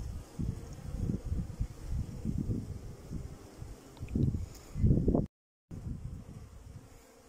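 Bees buzzing around fingers smeared with honey outdoors, a low, fluttering drone with passing louder swells as insects fly near, mixed with wind noise and rustling, and a brief total dropout near the end.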